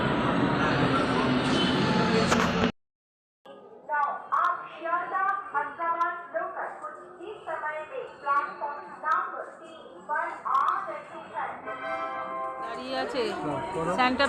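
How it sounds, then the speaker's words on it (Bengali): At a station, a train rumbles loud and close for a few seconds before the noise cuts off, followed by people chatting and talking over a quieter rail background. "দশটা দশে আমাদের ট্রেন এখন দশটা বাজে এখনো দশ মিনিট বাকি ট্রেন আসছে"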